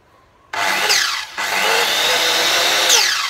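A Japanese domestic 100V 1050W circular saw with a 185 mm blade starts abruptly and runs loud and steady with a high whine, briefly dipping before spinning back up, alone with no talk.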